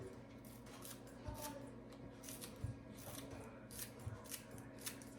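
Scissors snip the tops of vegetables, likely cilantro or green onion, in a home kitchen; a series of quiet, crisp cuts comes at irregular intervals over a soft hum of background noise.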